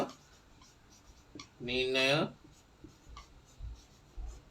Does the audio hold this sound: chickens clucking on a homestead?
no